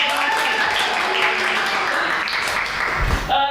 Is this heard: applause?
yes